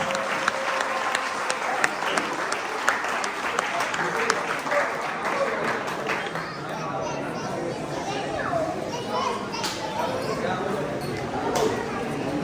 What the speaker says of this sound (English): Big cheer for them, please.